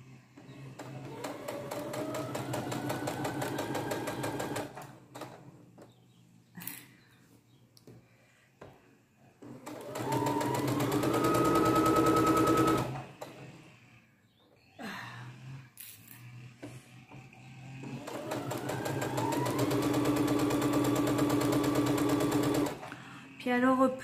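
A sewing machine stitching a summer dress from an easy Burda pattern runs in three long, steady whirring bursts separated by short pauses, close and loud, with someone speaking at times.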